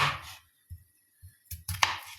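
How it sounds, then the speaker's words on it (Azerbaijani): Knife chops through potatoes being halved and cut on a board for a chicken giblet and potato dish: a handful of close, irregular thuds, quiet in between. "2 yerə bölüb, bax bu şəkildə də beləcə doğrayırıq."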